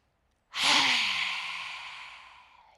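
A single forceful lion's breath exhale during a yoga session, a sudden loud breathy rush with a faint voiced edge that fades out slowly over about two seconds, close to the mic.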